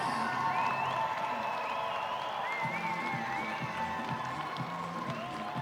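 A large crowd at an international dog show final cheering and applauding as dogs move around the ring, a steady loud wash of clapping and whistling with a commentator's voice running over it.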